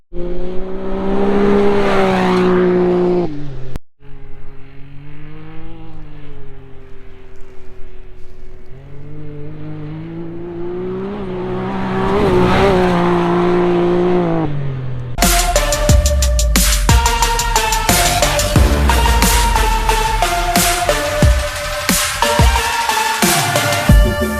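A Can-Am X3 side-by-side with a raspy Empire Industries aftermarket exhaust revs hard as it speeds past, rising and falling in pitch, with several fast passes.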